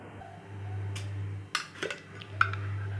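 A pan set down on a kitchen stove before butter goes in: a few faint metallic clanks and knocks, spaced apart, over a steady low hum.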